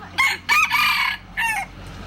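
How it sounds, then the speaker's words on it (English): A rooster crows loudly and close by, giving a full multi-part cock-a-doodle-doo followed by a shorter second call. "a rooster. I just couldn't resist this one."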